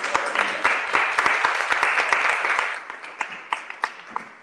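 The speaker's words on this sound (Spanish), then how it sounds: "Por favor, otro aplauso." Audience applause at a university panel session, a dense burst of clapping that thins into scattered individual claps over the last seconds.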